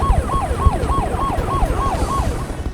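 A wailing ambulance siren sweeps up and down in regular repeating cycles, loud and close, with a low engine rumble underneath and no talking.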